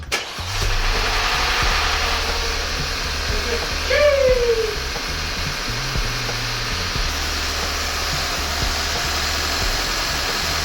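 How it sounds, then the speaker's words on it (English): A 2.0T Audi A4 B8.5 engine starts up after a timing chain replacement, catching with a brief rise and then holding a steady, close, continuous idle rumble with a faint whine for the rest of the stretch. "start the car up"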